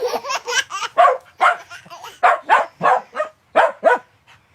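A cartoon dog barks in a quick run of about a dozen bright yips and woofs, close and lively, in an animated Filipino family story where children are playing happily with the dog.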